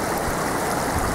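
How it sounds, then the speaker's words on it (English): Floodwater rushing steadily down a driveway, a constant close gushing and splashing flow. "The water going down my driveway."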